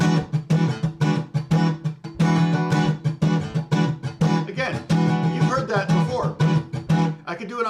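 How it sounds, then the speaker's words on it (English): Funky R&B electric guitar plays a choppy rhythm of quick triple-hit strums between muted chops, close and upfront with a steady groove. "If I did a triple hit on the first one, it would sound like this."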